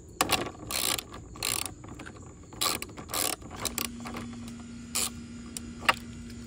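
A socket ratchet works 10 mm trim bolts on a Goldwing motorcycle. Close, crisp clicking comes in short bursts of rapid pawl ticks separated by brief pauses, with a faint steady hum underneath.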